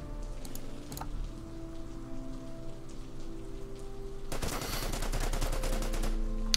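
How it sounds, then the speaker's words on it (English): Enemy bunkers return fire in the war strategy game Order of Battle, with a low steady rumble, then a dense, loud rattle of rapid gunfire that erupts partway through and keeps going to the end. "Bunkers firing back, no problem"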